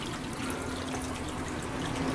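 A Midea Desea 14-place dishwasher running its heavy wash cycle, giving a continuous even rush of spraying water with a faint low hum, steady throughout and without speech.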